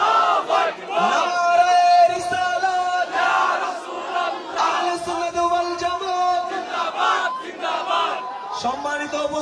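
A large crowd at a Bangla religious gathering chants the takbir in loud unison, several rising and falling collective shouts of Allahu Akbar and related slogans answering a leader's calls.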